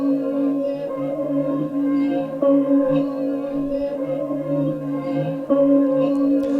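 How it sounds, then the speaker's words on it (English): A pitched, reversed sample texture with halftime and RC20 processing drones continuously with layered harmonic tones. Subtle swells move back and forth throughout, with no pauses or voices. "It's kind of just got this reverse effect going back and forth"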